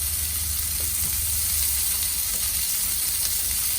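Butter sizzles and fries in a very hot pan for a steak dinner, a steady, loud, dense hiss that carries on without a break and has no voices over it.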